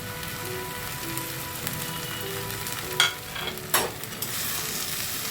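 Mushroom chilli with spring onion stir-fries in a pan, a soft continuous sizzle under occasional spatula scrapes, with a couple of louder clattering stirs standing out near the end.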